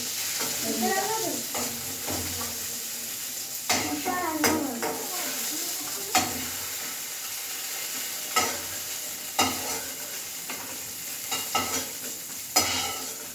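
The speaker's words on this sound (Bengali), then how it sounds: "বেগুনটা ভাজা হোক" Eggplant sizzling in a frying pan while being stirred, a constant frying hiss broken by repeated scraping and clinking strokes of a utensil against the pan, close and fairly loud.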